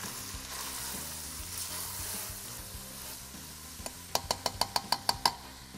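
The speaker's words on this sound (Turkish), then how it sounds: "Üzerine hemen 2 çay kaşığı tuz ilave ediyorum. Şöyle iyice bir karıştıralım." Onions and salt sizzle steadily in a frying pan while being stirred, a constant crackling hiss that ends in a quick run of sharp knocks of the spoon against the pan.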